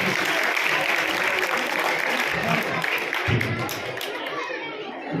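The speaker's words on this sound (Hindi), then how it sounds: "जोरदार ताली किसी के लिए।" Audience applause at a girls' school ceremony as a guest is garlanded on stage: steady dense clapping mixed with crowd chatter runs throughout, fairly loud and continuous.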